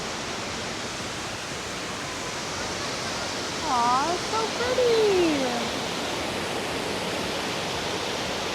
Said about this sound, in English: This is Copper Creek Falls.